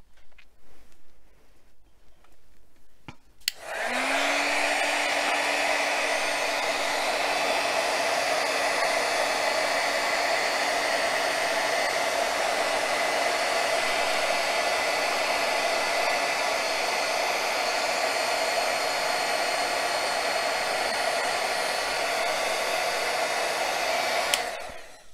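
A heat gun blows steadily on shrink plastic at a craft table, a loud continuous whooshing hum with a rising whine that starts abruptly and runs for about twenty seconds before cutting off, with no talking over it.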